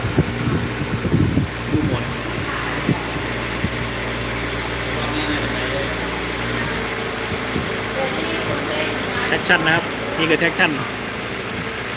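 A Kawasaki ZX-25R motorcycle engine runs at a steady idle throughout, its low rumble continuing under someone talking close by.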